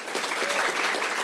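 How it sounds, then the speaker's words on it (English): An audience at a Cinco de Mayo history event breaks into steady applause for a county supervisor, a dense wash of many hands clapping at even loudness throughout, with no talk over it. "Please join me in a round of applause for Supervisor Holly J."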